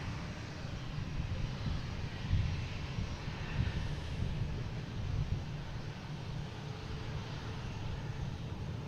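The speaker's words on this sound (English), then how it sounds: "I got Japan Airlines coming in." A Japan Airlines airliner arriving from Tokyo at Boston Logan International Airport, heard as a steady, fairly faint engine rumble from a distance that holds constant with slight swells and no voices.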